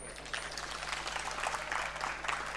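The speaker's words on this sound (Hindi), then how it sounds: "कब ताली बजाएंगे?" An audience at a spiritual satsang talk breaks into sustained applause, a steady, moderately loud patter of many hands clapping over a low electrical hum from the sound system.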